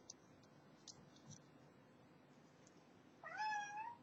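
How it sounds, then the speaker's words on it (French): Near the end a cat gives a single clear meow, close and fairly loud, after a quiet stretch of faint indoor room sound and small clicks. "Il y a un chat encore là."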